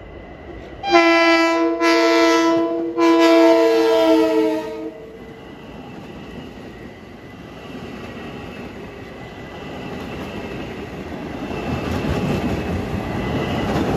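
A westbound Long Island Rail Road train from Huntington to Grand Central sounds a loud, chorded horn in three blasts, then rumbles steadily closer with rising track noise.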